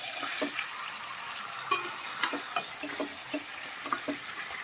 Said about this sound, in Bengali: তরকারিতে জল দিয়ে দিয়েছি